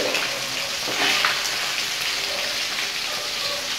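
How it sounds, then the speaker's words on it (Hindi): Fish fries in a pan in a home kitchen, giving off a steady, dense sizzle and crackle. The spitting of hot oil is close and continuous, with no voices over it. "देखिए मैं मछली फ्राई कर रही हूँ"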